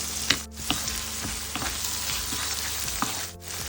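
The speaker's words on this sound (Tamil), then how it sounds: "மிதமான தீயில் நம்ம இதை அப்படியே வதக்குவோம்." Okra for a spicy lady's finger stir-fry crackles and sizzles steadily in a pan over medium heat, with occasional stirring clicks and no talk.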